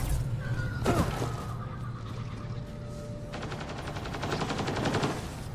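Rapid automatic gunfire from a Mass Effect Andromeda firefight, a sustained burst of fast, evenly spaced shots near and loud, preceded by a single sharp shot and a swishing sweep over steady ambient game background.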